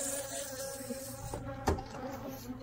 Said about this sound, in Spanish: Nos vamos a meter aquí adentro con lleno de abejas